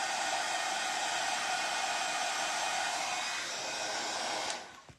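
Hair dryer blowing on a decoupage glasses case, a loud continuous close-up whoosh that shifts slightly in tone partway through before switching off at the end, no speech.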